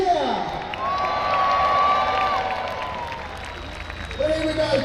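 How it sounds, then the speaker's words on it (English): A crowd cheers and applauds at a model ship battle show by a lake in Scarborough, England, with steady clapping and whoops, while a voice talks over it. "Give them a cheer!"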